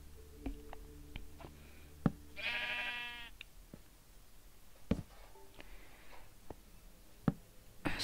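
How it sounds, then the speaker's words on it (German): A sheep in the video game Minecraft gives one clear, wavering bleat midway, among faint clicks and soft footstep taps in a quiet underground setting. "Das erste, was wir sehen, ist ein Schaf."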